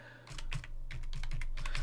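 Quick, irregular keystrokes on a computer keyboard while setting up Python Django plugins in VS Code, clicking steadily and close by with no voice over them.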